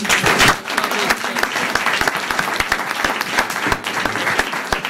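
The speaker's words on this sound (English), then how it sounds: "one more round of applause for all these" A school board meeting audience gives a loud round of applause for students, a thick, crisp burst of many hands clapping close by and continuing steadily throughout.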